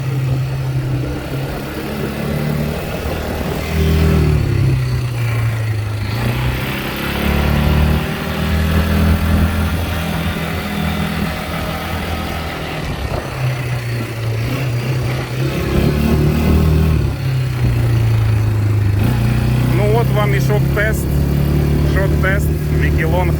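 A Mikilon Hardy ATV's 176 cc engine drones steadily throughout while pulling a trailer loaded with 800 kg, its pitch rising and falling as it labors under load, with talking over it.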